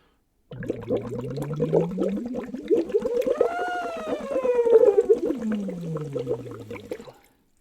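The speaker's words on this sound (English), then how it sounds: "That's our lip trill or bubble blowing warm-up." Lip trill or bubble-blowing vocal warm-up: a buzzing, fluttering voiced tone that glides up and then back down in pitch, sustained for about seven seconds, close and steady with no talking.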